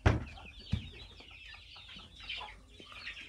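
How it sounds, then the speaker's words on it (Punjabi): Free-range desi village chickens clucking in a small coop, a few loud close bursts early then a steady busy chatter of hens and roosters throughout. "ਬਸ ਇਹ ਮੁਰਗੇ ਆ"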